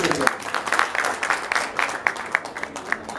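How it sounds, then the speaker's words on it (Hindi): Audience at an award ceremony claps for a senior film actor, a scattered, uneven patter of hands that starts strong and thins out, with some voices mixed in. "बहुत जोरदार तालियां प्लीज"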